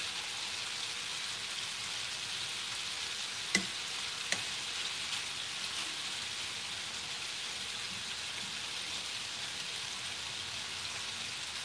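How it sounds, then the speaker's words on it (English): A beef roast searing in bacon grease in a pot, a steady, even sizzle like light rain running throughout, with two brief sharp clicks of a utensil early on and no talking. "But I am searing it for 5 minutes."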